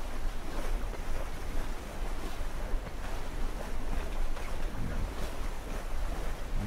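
A sailboat runs crosswind on the ocean in a sailing simulator game, with steady rushing wind and wave wash forming a continuous, even bed of noise with no talking.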